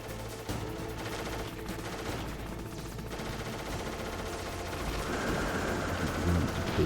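Steady automatic gunfire from an enemy shooting in Metal Gear Solid, a continuous rattling stream of shots that swells slightly louder toward the end, with a voice talking over it.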